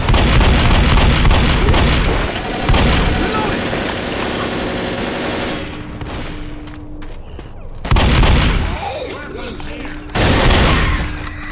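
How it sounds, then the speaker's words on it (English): Shotgun gunfire in Rainbow Six Siege: a run of heavy, loud blasts and booms, with loud stretches near the start and again around eight and ten seconds, under scattered game noise. "Shotgun."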